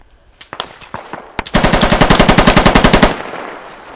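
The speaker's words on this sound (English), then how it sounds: "I'm firing on the ridge line" Machine gun fire in the military shooter game Squad: a few scattered shots, then a loud, close, rapid sustained burst of about twenty rounds lasting over a second before trailing off.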